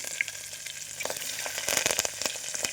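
Spices crackle and sizzle steadily in hot oil while tempering moong dal, with dense popping and spitting bursts close up and no voices.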